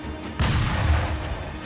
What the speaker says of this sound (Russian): Там камни, которые взрываются. Я подумал, по мне огонь открыли.